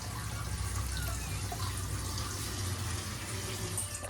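Water splashes and runs steadily from a tap, filling something for the cats in a domestic setting, a constant close wash of sound with no talking.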